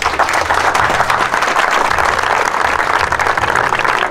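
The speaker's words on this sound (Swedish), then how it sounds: "jag tycker vi applåderar för varje person här" Sustained, dense applause from an audience at a burger cooking contest final as a finalist is announced, steady and loud for the full four seconds with no talk over it.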